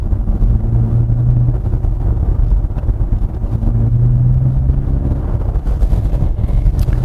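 A 2022 Genesis GV60 Performance AWD electric car plays its synthetic G engine sound while accelerating, a low, steady droning hum that rises in pitch in two smooth swells under constant road and wind rumble inside the cabin.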